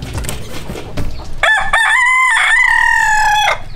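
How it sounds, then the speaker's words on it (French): Fighting roosters in Bali crow loudly and close by: a long, strong crow holds for about two seconds after a short burst of rough clucking and scuffling. "Des coqs sont aussi élevés pour les combats."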